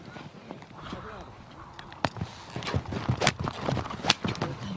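Horse hooves clip-clop in an uneven series of sharp, close strikes on hard ground, growing busier toward the end, with someone narrating over them.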